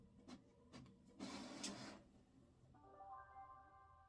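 Printer producing a shipping label, with faint close rubbing and feed noises, then a soft whirring mechanism tone near the end, quiet and without talk.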